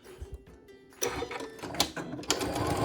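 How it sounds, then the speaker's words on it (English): A sewing machine begins stitching a fabric napkin, starting with a few light clicks before settling into a close, steady mechanical whir for the remaining couple of seconds. "we are going to start sewing"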